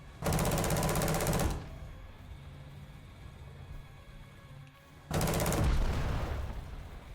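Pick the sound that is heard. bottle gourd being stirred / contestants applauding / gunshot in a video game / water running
gunshot in a video game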